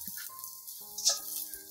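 Onions dropped into hot oil in a wok where garlic is already frying, giving a short, quiet sizzle with a brief louder crackle partway through.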